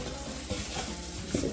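Jamaican Christmas cake batter being stirred by hand in a bowl, a soft continuous scraping and wet churning with a brief louder clunk near the end, close and alone without talk.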